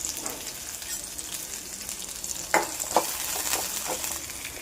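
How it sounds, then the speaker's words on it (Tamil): Small onions, garlic, ginger and chillies fry in a pan with a steady close sizzle, broken by a few scraping stirs, and no one speaks. "ஒரு 10-15 பல் சின்ன வெங்காயம், ஒரு 4 பல் பூண்டு, இது நல்லா வறுத்துக்கலாம்."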